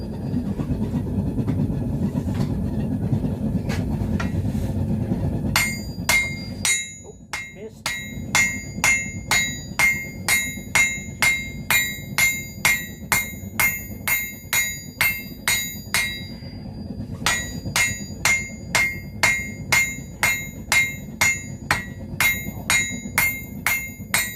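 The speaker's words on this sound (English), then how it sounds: "we'll go on to the little lump hammer" A low rumbling roar gives way to regular ringing lump hammer blows on hot metal on a hand anvil, a steady forging rhythm with a short break midway.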